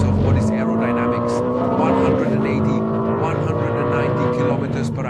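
Ferrari SF90 XX Stradale hybrid supercar at speed on the Fiorano test track, its engine holding a loud, steady high-revving drone with wind roar as someone talks over it.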